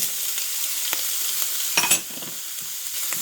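Shrimp fry in a hot pan for an omelette dish, giving a dense, even sizzle with a few stirring scrapes and a brief louder burst partway through. No one talks.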